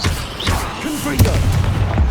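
Confringo, a fire-blast spell in the Hogwarts Legacy video game, lands as a series of booming, explosive thuds with one sharper impact in the middle, loud and close over continuous game noise.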